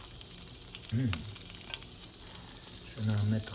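Food browning in a frying pan for pizza naan gives a steady, fairly loud sizzle and crackle that runs throughout, while a voice speaks briefly twice over it.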